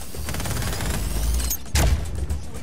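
A charged wind-and-lightning gun firing in shotgun mode in the Just Cause 4 video game, a sustained rumbling crackle that swells and then ends in a single heavy, close blast.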